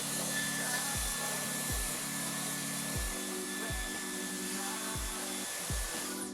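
A handheld hair dryer blows a steady, close whoosh of air over wet natural hair, with a constant motor hum broken by repeated low thumps as it is moved or handled.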